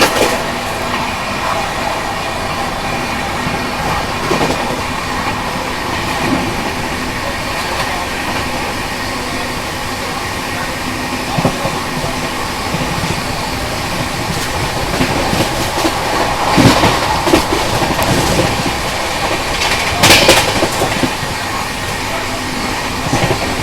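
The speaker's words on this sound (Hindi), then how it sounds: "ये रहे दर्शन एक्सप्रेस।" Darshan Express rushing past an Indian railway line near Faridabad, heard from aboard an AC Duronto train: a steady, loud rolling roar with rattling wheel clatter and brief sharper bursts throughout, no talking.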